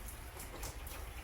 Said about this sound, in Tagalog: Ayan o, umuulan siya.